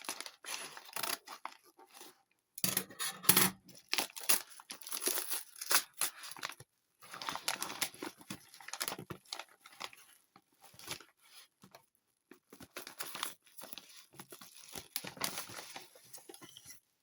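Three 1970s Doctor Who Target paperbacks in a large package being torn open by hand: bursts of crinkling, ripping paper and plastic come close and loud, with short pauses between the handling sounds.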